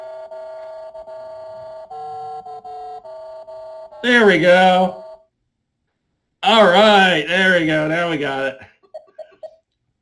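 A TRS-80 adventure game gives out a run of blocky electronic beeps at two pitches. People then talk, and a few short, quiet blips sound at the end.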